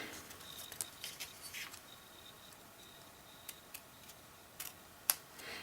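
Scissors snipping into a Bendi card from both sides to form a small tab: a few soft, quiet, scattered cuts with faint clicks, alone in a hushed room.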